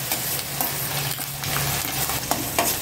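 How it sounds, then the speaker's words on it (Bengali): A paste of black cumin, garlic and green chili fries in a pan over a medium gas flame, a steady close sizzle with soft scraping and stirring clicks throughout. "একটু ফ্রাই করে নিই।"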